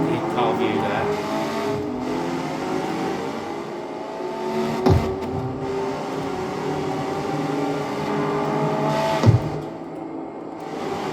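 A racing car engine of over 1,000 brake horsepower in the video game Street Car X drones and revs steadily with two sharp peaks, under someone talking.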